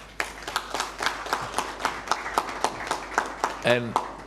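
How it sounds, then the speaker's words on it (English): Audience at a football federation event clapping hands in a fairly regular rhythm of distinct, close claps, with a brief voice near the end. "Can we clap hands for them, please?"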